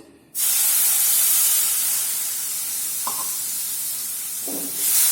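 Milk poured into wheat flour roasting in a pan for churma laddu sets off a sudden loud, sustained sizzling hiss, with a couple of soft clinks from a spoon partway through.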